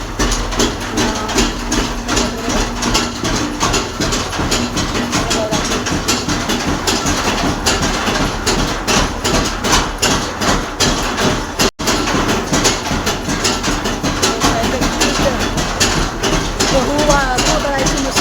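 A chili grinding mill machine runs nonstop at close range, a loud, dense mechanical roar with rattling texture that cuts out for a split second near the middle before resuming.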